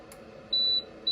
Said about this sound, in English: There's that beep.